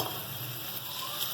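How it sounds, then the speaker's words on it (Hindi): Steady, close frying sizzle of onions browning in hot oil for a biryani, a continuous bright crackle with no voices. "हम अपने प्याज डालेंगे, गोल्डन फ्राई करेंगे हम प्याज"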